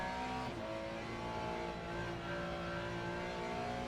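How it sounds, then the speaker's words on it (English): A Ferrari GT3 race car's engine in the Le Mans Ultimate sim racing game at Portimão drones steadily while the throttle is feathered, the tone wavering slightly and continuous with no voices. "Feathering the throttle right now."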